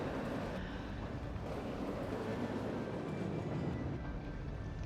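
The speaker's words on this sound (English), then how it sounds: "we're in industry, in the metro, waiting our turn to jump off this train" A metro train runs in Cities: Skylines, a steady loud rumble and rattle of rail wheels with a faint high whine, continuous throughout.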